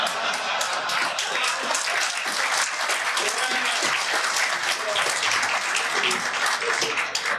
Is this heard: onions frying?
no